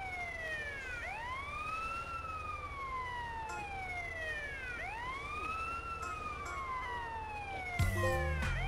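A fire truck siren in GTA San Andreas wails in long rising and falling sweeps over a low engine rumble, steady and prominent, with a brief burst of other noise near the end.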